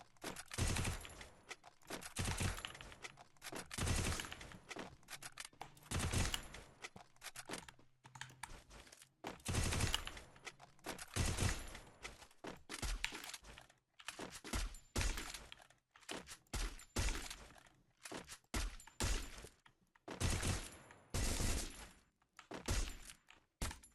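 Aimed weapon fire in a shooter video game rattles out in loud, repeated bursts and rapid volleys, with short pauses between strings of shots, close and continuous throughout.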